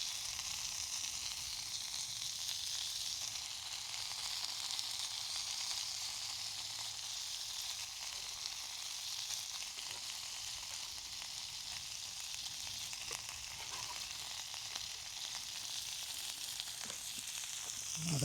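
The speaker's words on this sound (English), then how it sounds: "We'll put in the trout first and get that going." Trout frying in oil in a cast iron pan over a Firebox Nano stove, a steady, dense sizzle that holds evenly throughout with no talk.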